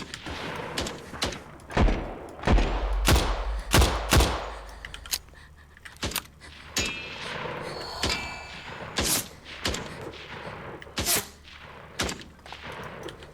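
Enemy gunfire in the shooter Better Than Dead: sharp, loud shots crack in irregular bursts with some rapid strings, metallic clangs and thuds mixed in, fairly close.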